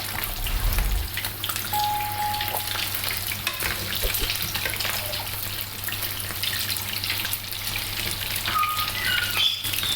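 Rum börek frying in a pan of hot oil, a dense, steady crackling sizzle held close throughout, with a brief low clunk near the start and a few faint clinks.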